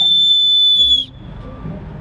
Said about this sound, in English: try and drown out conversations and hurt people's ears with a whistle